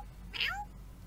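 A kitten in the video game Mew Sim gives a single short, rising meow, heard clearly over a quiet low background hum.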